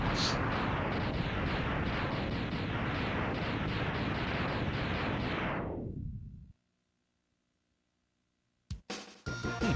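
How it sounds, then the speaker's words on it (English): Explosion in the Mega Man X video game: a loud, sustained rumbling blast with crackling bursts that fades out sharply into silence, followed by a few brief game sound effects. "I only really heard the explosion coming out of the right side"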